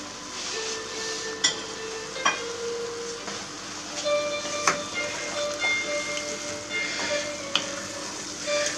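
Squid (seiches) and chopped tomato fry in a pan, giving a steady crackling sizzle with a few sharper pops and spatters close by, with no talking.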